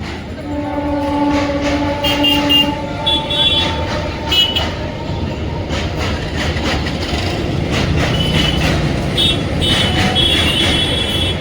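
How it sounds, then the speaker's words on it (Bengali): A train passes close by at night, its rumbling wheels and clattering cars roaring steadily while the horn blares in several long, loud blasts; faint voices can be heard beneath the din. "রাতে ট্রেন যাচ্ছে"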